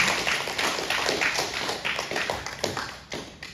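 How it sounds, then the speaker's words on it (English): A church congregation claps together as an offering of praise, a dense patter of many hands that stays steady and fairly close, with a few louder individual claps standing out near the end. "Let's give a clap offering to the Lord."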